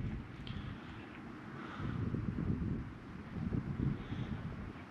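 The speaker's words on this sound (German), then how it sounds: "Isas Haare wehen im Wind" Wind gusts buffet the microphone at a mountain campsite, a low rumbling roar that swells and fades in two stronger surges with soft rustling, no voices.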